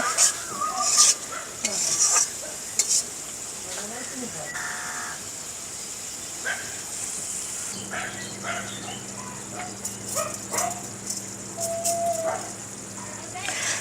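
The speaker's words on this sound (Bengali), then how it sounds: "এখন আমি এর মধ্যে দিয়ে দিচ্ছি বাটার" Butter sizzles and crackles in a hot pan while paneer masala cooks, with bursts of stirring and scraping at the start and faint background noises. No one speaks.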